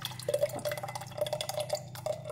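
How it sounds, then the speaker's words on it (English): Homemade sauce pours into a jar in a kitchen, giving soft wet glugs and drips with a faint ringing tone from the glass, close and quiet with no voices. "And now into a jar, I'm just going to pour the rest of the sauce."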